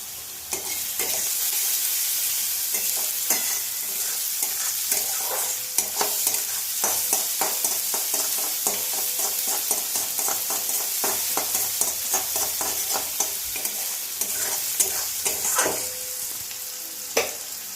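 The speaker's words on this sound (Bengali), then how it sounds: "এবার একটু নুন দিয়ে দেব পেঁয়াজটা একটু নরম হয়ে যাবে" Onions sizzling in a pan with salt while being stirred for a Bengali Bhola fish curry, a steady frying hiss punctuated by frequent scraping clicks of the spatula, close and with no talking.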